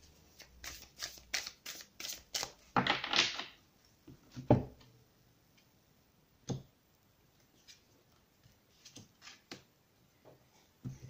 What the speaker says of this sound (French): Je vais prendre deux cartes.